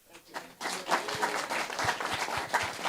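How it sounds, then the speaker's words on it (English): An audience at a post-hurricane reconstruction conference in Jamaica breaks into applause, clapping swelling quickly and holding steady for a few seconds at moderate volume. "so let's give a round of applause to PM for taking those questions"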